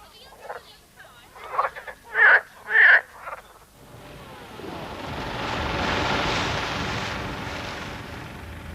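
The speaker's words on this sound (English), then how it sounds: "there are now hundreds of thousands of these frogs all over Romney Marsh" Marsh frogs croaking on Romney Marsh on a warm summer evening, a few loud close ratcheting calls in quick succession followed by a softer, broad wash of background sound.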